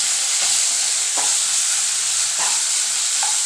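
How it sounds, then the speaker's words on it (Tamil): Food sautéing in a pan for a Tamil non-veg recipe, giving a steady bright sizzle with occasional louder stir bursts, close and continuous with no talking. "இப்போ வந்து நல்லா வதங்கட்டும் ஃப்ரெண்ட்ஸ்"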